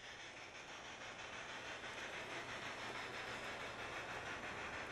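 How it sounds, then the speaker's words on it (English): Model trains run at the Twin City Model Railroad Museum in St. Paul, Minnesota, producing a faint, steady, continuous rushing hum with no voices present. "The night trains are running."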